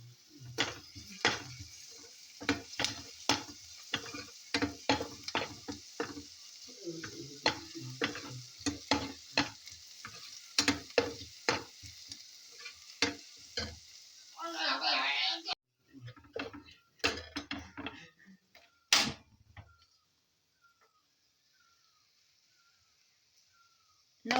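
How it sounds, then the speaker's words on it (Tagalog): Chicken breast fries in oil with minced organic garlic, giving a crackling sizzle punctuated by sharp spatula taps and scrapes. A voice talks over the cooking before it drops away into near silence at the end. "I remove some oil here because too much oil where I fry this chicken breast."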